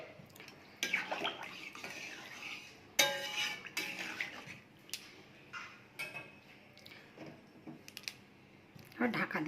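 Water is poured into a pot of spiced potatoes and pointed gourd, with clattering utensil and pan sounds and splashing under intermittent talk.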